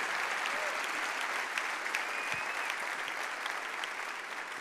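A church congregation at a worship service applauds in a steady, full wash of clapping that holds for several seconds, with faint voices mixed in.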